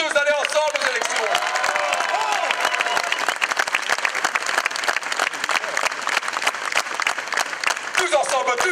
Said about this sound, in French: On peut les applaudir tous d'aller ensemble aux élections.